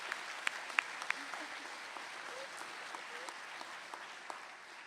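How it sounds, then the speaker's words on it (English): Graduation-ceremony audience applause for a speaker at a university pharmacy awards event, heard as a soft, fairly distant wash of clapping with a few sharper claps near the start, steady and moderate throughout. "Let's give him another round of applause."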